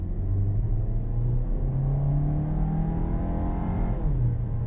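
A 2020 Volkswagen Tiguan SEL Premium R-Line in sport mode accelerates with a steady, close engine drone that rises and shifts in pitch over several seconds, heard from inside the cabin with no talking.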